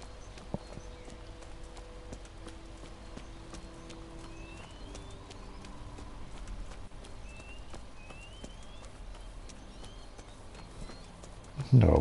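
Horse hooves clip-clop steadily and quite faintly under the ambient sound of the Kingdom Come Deliverance game world, with occasional bird chirps and a louder burst near the end.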